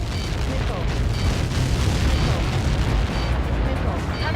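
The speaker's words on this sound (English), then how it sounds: "How many got caught in that explosion?" A massive projectile impact explosion in the combat flight game Ace Combat 7, heard as a loud, sustained roaring rumble with crackling debris that holds steady for several seconds without letting up.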